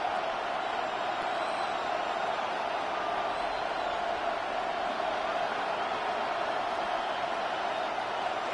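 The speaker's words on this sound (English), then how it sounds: "This crowd turning up the decibel level." A football stadium crowd roars in a steady, dense wall of cheering that stays loud and even from start to finish, with no single voice standing out.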